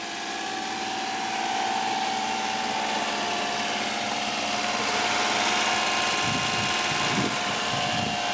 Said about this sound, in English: Go ahead and start it up. So this is a carbureted 3-cylinder.